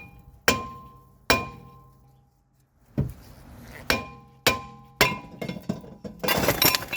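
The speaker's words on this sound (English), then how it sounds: "If your rotor's stuck on there, let's get a sledgehammer. Let's get to give it a whack." A sledgehammer whacks a stuck front brake rotor on a Lexus IS250: several sharp, ringing metallic strikes spaced a second or so apart, ending in a rough clatter as the rotor frees.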